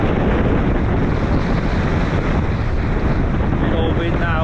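Strong winter wind blows hard across a carp fishing lake, a loud, constant roaring gust buffeting the microphone and drowning out nearby sound, with a faint trace of water beneath.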